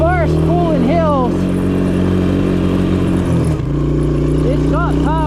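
A 1984 Suzuki LT185 ATV engine laboring up a hill on worn tires, a steady loud drone with low rumbling harmonics throughout and rising whines at the start and end, under ongoing talk.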